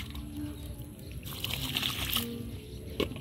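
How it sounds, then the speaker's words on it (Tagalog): Water pours onto pechay plants in a steady trickling splash that swells midway, fairly close, with faint birdsong in the background. "So ang pagdilig, dito tayo magdidilig"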